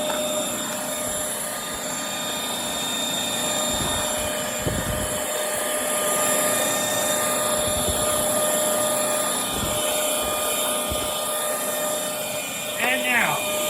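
A Bissell Featherweight purple stick vacuum, model 20334, runs with a steady high whine and motor hum, loud and close, with occasional bumps of the head moving across the floor.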